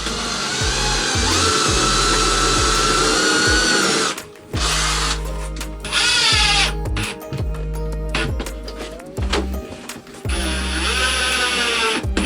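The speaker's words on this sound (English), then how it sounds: "we also fastened them to the furring strips with stainless screws." Power drill driving stainless screws into wooden furring strips in a cabin bedroom, with several loud close bursts of whirring that rise and bog down as each screw seats, separated by short pauses.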